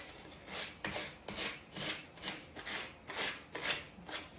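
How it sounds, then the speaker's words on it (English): Sandpaper rubs along a wooden candle edge in a run of about eight short rhythmic strokes, each a soft raspy scrape, close and fairly quiet, with no voices. "let me get a new piece of, here's a new piece of sandpaper"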